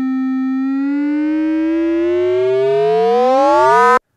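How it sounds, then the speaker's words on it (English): Single sustained synthesizer tone with one oscillator frequency-modulating another's pitch, its pitch gliding steadily upward over about four seconds as growing sidebands make it brighter and more metallic, ending abruptly; loud and close, with no talking. "Crossmod takes oscillator 2 and routes that to the pitch of oscillator 1 so that oscillator 2 is modulating the pitch."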